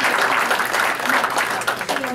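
An audience applauds teacher Cindy Letterman at the Hood County Tea Party, with dense, steady clapping from a crowd filling the room. The applause stays loud and even throughout, with no break.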